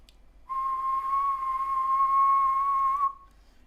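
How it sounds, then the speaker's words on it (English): A single steady whistled tone, clear and pure, held for about two and a half seconds against near silence. "if I start with the simplest instrument of all, just a human whistle"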